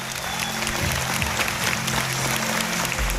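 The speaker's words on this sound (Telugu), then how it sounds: "ఒక్కసారి గట్టిగా 2 చేతులు పైకి లేపి ఎవరి అమ్మ కోసం వాళ్ళు గట్టిగా చప్పట్లు కొడదాం" An audience at a Mumbai stage event featuring a singer claps loudly for their mothers, a dense, steady wash of applause that holds at full strength from start to finish.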